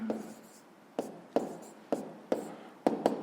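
A pen writes out a sixth-grade math fraction solution by hand on paper: a soft scratching line broken by about six sharp, evenly spaced taps and strokes, close and quiet.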